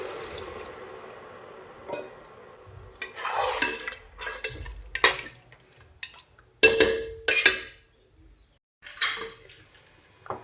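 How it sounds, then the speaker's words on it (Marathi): Water poured into a pot of country chicken, with bursts of splashing and pouring alongside clinks of a metal pot and utensils, close and uneven, separated by short pauses. "आता चिकन बुडेल एवढं मी पाणी ओतून घेणार आहे"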